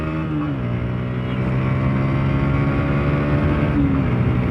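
A motorcycle rides along an empty road, its engine droning steadily and close with harmonic tones that dip and rise slightly as the throttle shifts, plus some wind rush.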